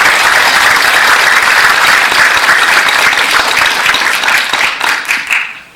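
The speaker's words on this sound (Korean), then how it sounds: "박수 치는 김에 중간 박수를 한번 치십시다" Loud audience applause fills the hall at a candidate debate, many hands clapping steadily and densely for several seconds before tapering off and fading out at the close.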